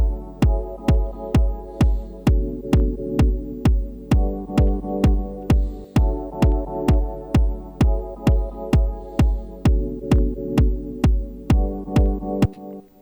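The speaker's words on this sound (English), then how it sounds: "They will stick a kick that is one tempo long and just go on doubling up." Kick drum looped in Ableton Live by doubling a one-beat clip over and over, thumping in a steady, even pulse with a sustained tonal layer shifting underneath, loud and continuous with no talk.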